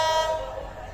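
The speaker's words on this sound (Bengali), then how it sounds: "দুইটা ট্রেন একসাথে ক্রস করতেছে, কি সুন্দর সিন।" Two trains cross at a railway station on the line to Cox's Bazar, with a loud horn blaring at the start and fading as rumbling rail noise continues for about a second.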